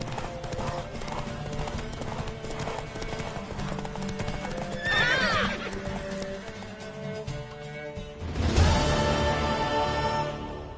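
Horse hooves gallop in a steady rapid clip-clop during a race in The Witcher 3 video game, with a whinny partway through and a louder burst of hoofbeats and commotion near the end, amid game music and ambience.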